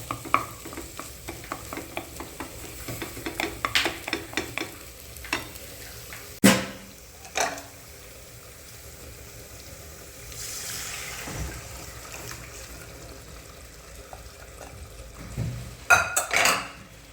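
Boiled kidney beans tipped into a pan of frying masala and stirred for rajma, with repeated metal spoon scrapes and clanks, a couple of loud knocks, and a soft sizzle underneath.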